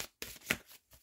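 Tarot cards shuffled in several quick riffling bursts, separated by short pauses, fairly close and with no talking.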